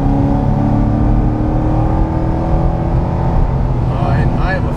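A 580 wheel-horsepower Corvette C6 Z06 engine pulls hard under load, a loud steady drone with sustained harmonics throughout, a voice talking over it near the end.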